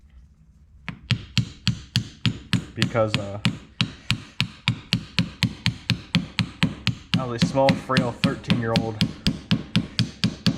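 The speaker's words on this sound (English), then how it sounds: "basically hammering stuff together" A hammer taps metal motor parts of a Zenoah G23LH engine in a steady, quick rhythm, about three blows per second, close up, while a person speaks over part of it.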